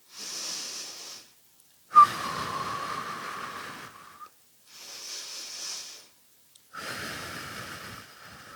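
Slow, heavy breathing close up during a plank exercise, alternating long inhales and exhales through nose and mouth with brief silences between, the breaths airy and a little strained.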